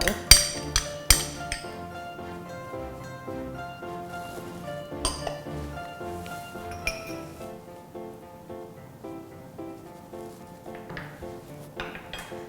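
Repeated metallic clinks and taps of a pastry blender cutting cubed butter into flour in a bowl, irregular strikes, close by, with kitchen clatter.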